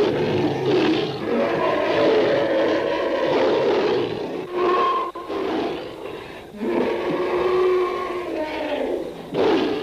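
A lion roars in a 1952 film set, deep sustained roaring bursts repeating loudly across the clip with a crowd-like roar beneath, no clear speech.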